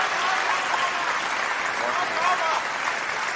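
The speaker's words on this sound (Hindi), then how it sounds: "भाई तालियां कम थी।" Audience applause at a Hindi-Urdu poetry recital, a steady broadband patter of many clapping hands filling the space, with voices mixed in.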